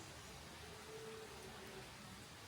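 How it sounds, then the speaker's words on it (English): Light rain falls outdoors as a faint, continuous hiss with no distinct drops standing out, steady and soft from start to finish. "It's raining just a little."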